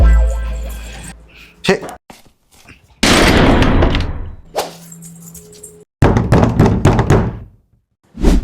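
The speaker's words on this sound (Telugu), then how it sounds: "మళ్ళీ డోర్ దబాతున్నారు" Loud, heavy banging on a rented house's door comes in several bursts of dense thuds and knocks, separated by quieter gaps with a voice speaking nearby.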